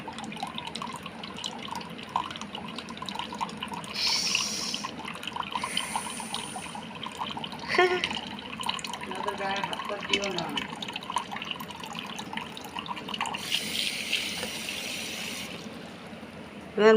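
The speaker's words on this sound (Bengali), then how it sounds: "এখানে একটু জলটাকে একটু ছেড়ে দেবো খানিকটা" Water runs into a home fish tank in a continuous, low trickle with occasional splashy surges and drips. A voice can be heard at times.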